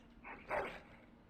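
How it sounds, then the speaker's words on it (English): A dog in the game Dragon Age: Origins gives a single short, moderately loud bark, standing alone over a faint background hum. "That is a wonderful dog."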